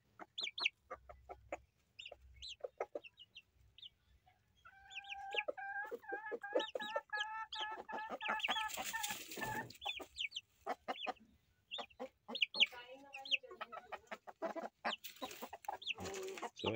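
Hens cluck and chatter in a chicken coop, with repeated short calls close by, a brief louder burst of squawking in the middle, and the clucking continuing steadily afterward.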